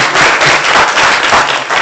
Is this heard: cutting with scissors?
no